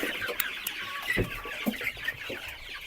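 Chickens and roosters in a village poultry yard, including Master Grey and Redbro breeds, clucking steadily with scattered sharper calls, close and moderately loud, with no talk.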